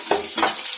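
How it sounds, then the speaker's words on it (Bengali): Chopped onions dropped into hot oil in a kadai for egg curry, two quick bursts of sharp sizzling close by. "এবার দেখো কুচনো পেঁয়াজ আছে, সেটা দিয়ে দিলাম।"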